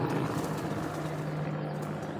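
Pigeons cooing in a loft of high-flyer breeds such as Lakhay and Galway, a steady low continuous coo held almost unbroken throughout, fairly close.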